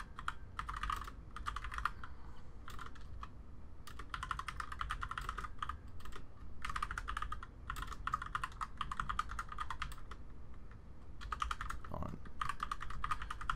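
Fingers type on a computer keyboard in quick irregular bursts of close clicking keystrokes, broken by short pauses, with faint low room noise underneath and no talking.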